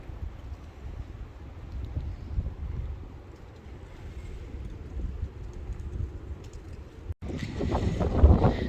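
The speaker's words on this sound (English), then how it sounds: "It's a pretty high wind day. The gusts, I think, are 30 or so." Strong gusty wind buffets a phone microphone outdoors on a cold mid-February day among maple trees being tapped for sap, a steady low roar that surges louder near the end.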